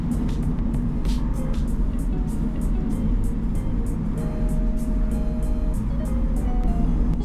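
A 2013 Smart Fortwo Pure with a 70-horsepower engine pulls away from a stop, its small motor droning steadily from inside the cabin while faint ticking and clicks sit over the low hum.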